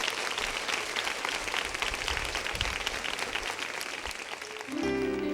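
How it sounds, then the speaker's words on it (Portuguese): A church congregation at a women's gathering applauds in a dense, sustained wave of clapping that carries on evenly before giving way to music swelling in near the end. "Vamos agora aplaudir a Jesus"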